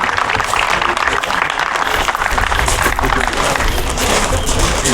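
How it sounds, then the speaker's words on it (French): Dense, loud audience applause at a Légion d'Honneur award ceremony, steady clapping filling the room throughout with no pauses. "On peut l'applaudir."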